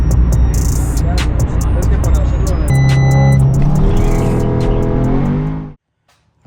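Audi S3 with a new APR ECU tune driving off, its engine revving loudly and close with rising and falling pitch, then cutting out abruptly near the end.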